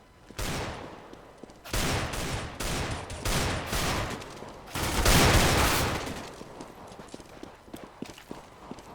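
Rifle and submachine gun fire in a video game, rapid bursts of shots in quick succession, loud and close, with brief gaps between volleys.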